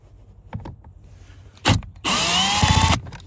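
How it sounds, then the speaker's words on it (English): Cordless power drill backing a screw out of a trim panel on a 2011-2019 Ford Explorer during an AC blower fan replacement, heard as a short burst followed by a loud, steady whirring run of about a second, close up. "Just gonna go quick and remove the screw."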